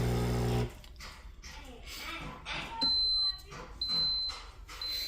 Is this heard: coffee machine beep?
yes